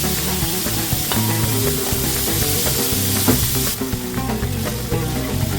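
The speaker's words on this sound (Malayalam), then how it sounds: "അരിഞ്ഞു വെച്ചിട്ടുള്ള സവാള അതിലിട്ട് ഒന്ന് മൂപ്പിച്ചെടുക്കുന്നവരെ നമ്മൾ ഇങ്ങനെ ഇളക്കി കൊടുക്കുക" Chopped onions fry in a pan with a dense, continuous sizzle, while a spoon stirring through them adds scraping and occasional knocks. Close and fairly loud, with no talk.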